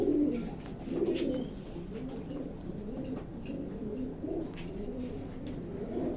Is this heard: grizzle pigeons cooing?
yes